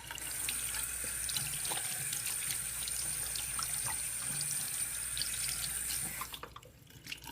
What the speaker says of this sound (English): So let's go ahead and rinse.